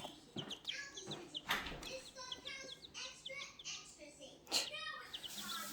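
Chicks and chickens in a garden coop give repeated high chirps and soft clucks, close and fairly quiet, while a voice talks over them at intervals.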